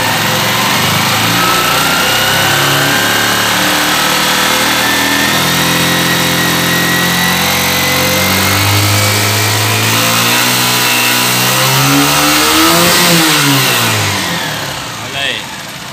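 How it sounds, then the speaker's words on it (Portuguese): Honda CG 125 Titan KSE 2003 motorcycle engine, headlight on, revs steadily upward over a sustained loud idle, rising pitch peaking near the end before easing off, close and continuous without talk. "Agora vamos acelerar."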